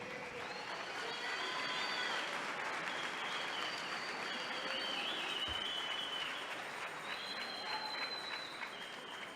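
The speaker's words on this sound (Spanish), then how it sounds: "Dale una ofrenda de palmas a Jesús." Sustained applause from a church congregation fills the space, steady and dense throughout, with faint cheering mixed in.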